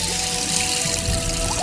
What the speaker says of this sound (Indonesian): Ada suara air.